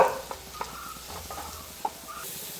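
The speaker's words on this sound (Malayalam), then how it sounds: "അടുത്തായിട്ട് നമ്മൾ ഇതിലേക്ക് കുരുമുളകും കുരുമുളക് പൊടിയും മഞ്ഞൾപ്പൊടിയും കൂടെ ചേർത്ത് കൊടുക്കുകയാണ് കേട്ടോ" Ground black pepper and turmeric powder go into a home-style chicken curry frying in a pan. A soft, steady sizzle runs underneath a few faint, scattered taps of a stirring utensil.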